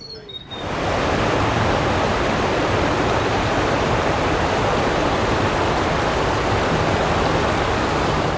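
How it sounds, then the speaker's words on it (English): A river flows on the outskirts of Leicester, a loud, steady rushing wash of water that sets in after the first half second and continues unbroken throughout. "Lovely stretch of river here, just on the outskirts of Leicester."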